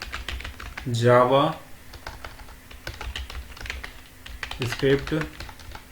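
Fingers tap out text on a computer keyboard during a JavaScript coding lesson, quick light clicks in uneven bursts, mixed with someone speaking between and over the keystrokes.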